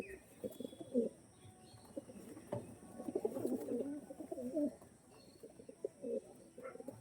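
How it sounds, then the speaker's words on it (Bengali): White-headed pigeons coo in low, repeated rolling calls close by, several birds overlapping in irregular bursts with faint chirps in the background. "এইসব পায়রা দেখাচ্ছে আজকে"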